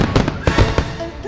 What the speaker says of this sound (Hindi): मैंने मना किया था कोई घर के अंदर बम नहीं फोड़ेगा